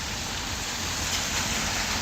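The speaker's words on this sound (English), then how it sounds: "I think the rain is slowing down a bit. It's not coming down as hard" Rain falls on a Brooklyn street, a dense, even hiss of steady rainfall with no pauses and no voices.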